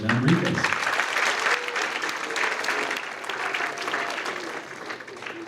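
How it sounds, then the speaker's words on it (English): Audience applause for author Christina Enriquez at a school Writers Week event, a steady wash of clapping that holds for several seconds at moderate level with no talk over it. "One last round of applause for today's author"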